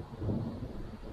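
A short, deep rumble of thunder rolling low and heavy, fairly loud for a moment before easing slightly, with no speech.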